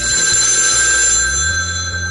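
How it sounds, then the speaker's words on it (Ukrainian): A telephone rings steadily and loudly in a quiet room at night, a continuous electronic bell tone with no voices over it. "як пролунає телефонний дзвінок"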